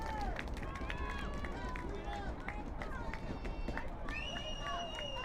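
Spectators at a Poly Prep versus Hackley girls' varsity soccer match shouting and cheering in the final minute, a dense, steady babble of many voices with higher cries rising over it.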